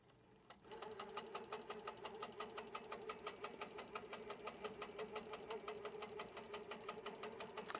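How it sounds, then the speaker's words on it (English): An HQ Pro-Stitcher longarm quilting machine stitches a repeating border of half circles, giving a fast, steady mechanical needle chatter that starts abruptly and runs on evenly, close up with no talk. "And then it'll go ahead and stitch those half circles again."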